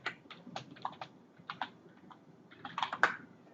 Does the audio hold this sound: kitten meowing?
no